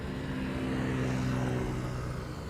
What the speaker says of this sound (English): Indeed, Jörg, late touchdown equals much reversers.